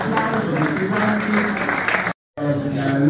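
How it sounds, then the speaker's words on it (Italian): An audience applauds students who won a culture olympiad at the Liceo Da Vinci, steady dense clapping filling the room before a brief cut. "ringraziamo con un applauso tutti quanti"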